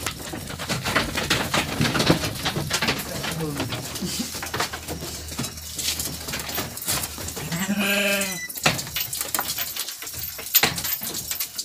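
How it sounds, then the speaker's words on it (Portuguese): Newly bought sheep bleating on a farm, a wavering drawn-out bleat standing out near the middle amid livestock shuffling, bird cooing and people talking throughout. "Aqui tá, ó, as ovelhas que a gente comprou hoje."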